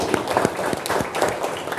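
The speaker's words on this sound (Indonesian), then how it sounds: "Tepuk tangan kelompok 1 ya" Classroom group applauding a presenting team in an Indonesian school lesson, a short burst of scattered hand claps with uneven rhythm, fairly close and moderately loud, with no talk over it.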